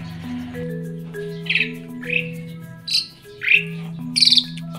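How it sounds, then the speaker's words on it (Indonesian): An Asian pied starling, the jalak suren, sings in a yard, giving several loud, sharp whistled chirps and squeaks at irregular intervals over a steady low hum. "Burung jalak ini. Dia akan berbunyi dan berkicau."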